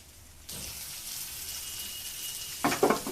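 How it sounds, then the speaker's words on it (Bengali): Pointed gourd pieces hit hot mustard oil and set off a sudden, steady loud sizzle. It keeps going evenly, then rises into sharper crackling spatter near the end. "আর সাথে এই যে পটলগুলো ওই তেলে ভেজে নিচ্ছি।"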